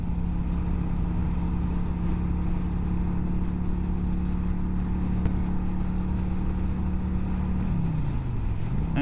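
A Kawasaki Vulcan 900 Classic motorcycle rides onto a freeway, its engine holding a steady drone beneath heavy wind rush before the pitch dips near the end, with no talking.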